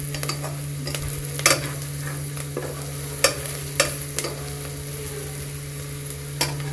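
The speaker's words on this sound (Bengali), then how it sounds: "একটু লাল করে ভাজে নিলে" Fish frying in oil in a pan with a steady sizzle, punctuated by several sharp utensil scrapes and clinks as it is stirred; no voices.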